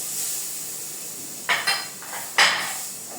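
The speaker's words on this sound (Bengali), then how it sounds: "সেই টুকরো করে রাখা মিটবলগুলিকেও হালকা ভেজে নেব।" Chopped meatball pieces lightly frying in a pan hiss softly and continuously. A few close metallic clanks and scrapes of a utensil stand out near the end.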